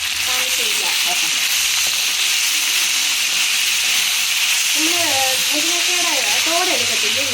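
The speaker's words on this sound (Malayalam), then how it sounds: "ഇനി നമുക്ക് അരിഞ്ഞ് വെച്ചേക്കുന്ന ഈ മുരിങ്ങയ്ക്കയുടെ ഇതുകൊണ്ട് ഇട്ട് അടുപ്പയിലോട്ടിട്ട് ഒന്ന് വഴറ്റാം" Chopped drumstick pieces sauté in a pan on the stove for a Kerala stir fry, with a steady loud sizzle and hiss throughout as a voice talks over it.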